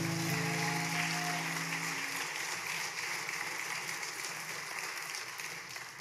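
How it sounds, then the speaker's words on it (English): Applause from a church congregation, a broad steady wash of many hands clapping that slowly fades, with a sustained organ or keyboard chord fading out at the start. "Can we give Mike one more round of applause, everybody?"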